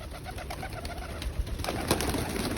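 Pigeons cooing at a home loft, soft repeated coos close by over a steady background hum, with a few brief flutters or knocks.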